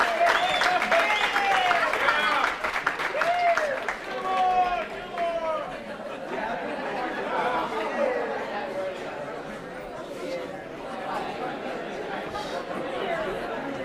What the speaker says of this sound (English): Let's give a big round of applause for Chris.